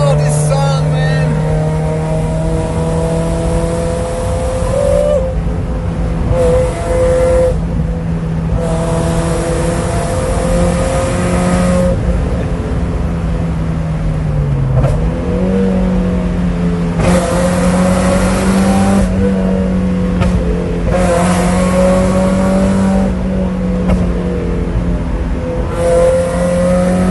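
A Mazda Miata MX-5 (Eunos) engine droning loud and close from inside the moving car, its steady hum rising and falling in pitch as it revs through gear changes, with occasional talk over it.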